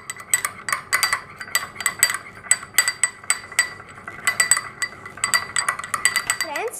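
Vegetable stir-fry of broccoli and Brussels sprouts being mixed with dark soy sauce and ketchup in a pan, a steady run of sharp spoon-on-pan clinks and scrapes, close and moderately loud, with no talking.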